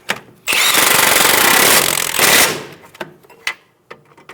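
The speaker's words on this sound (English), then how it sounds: "Using a wrench to hold the head of the bolt, snug down the nut." A tool tightens the lower strut nut on a 2010–2014 Subaru Outback while the bolt head is held. There is a loud, rapid mechanical rattle for about two seconds, followed by a few sharp metallic clicks and knocks.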